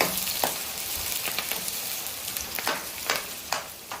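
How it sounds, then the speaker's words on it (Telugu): Chopped onions and green chillies sizzle and crackle in hot oil in a pan, a close steady frying hiss broken by occasional stirring scrapes, with no one talking. "ఉల్లిపాయలు వేగుతున్నాయి కదండి"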